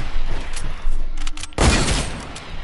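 Gunfire in the video game Fortnite ending in a headshot: sharp broadband bursts of shots, with a heavy, loud volley standing out near the end and fading into a rumbling tail.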